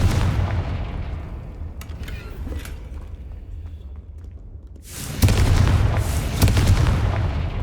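A Confringo blasting spell explodes in Hogwarts Legacy: quieter rumbling ambience with a few sharp crackles, then a sudden loud burst about five seconds in, followed by a sustained roaring blast with a couple of sharp cracks.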